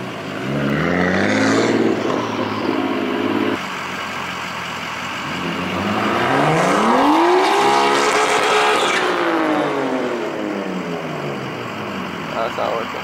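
An R32 Skyline engine revs hard with a rising and falling pitch sweep while attempting donuts, loud and close, with some tire noise and a voice speaking over it.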